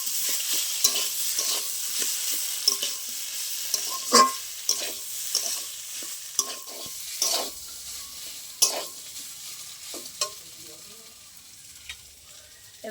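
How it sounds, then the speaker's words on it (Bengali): Boiled potato mashed into fried onion and spices in a pan, stirred with repeated sharp scraping strokes over a continuous close sizzle, with no talking. "ভালো করে একটু কষিয়ে নেবো আলুটা মশলার সাথে।"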